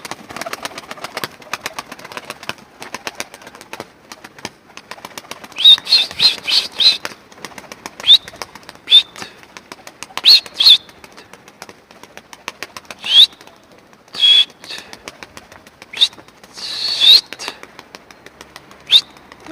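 Tumbler pigeons flap their wings in repeated bursts among scattered bird chirps, over a low engine-like rumble and occasional movement noise.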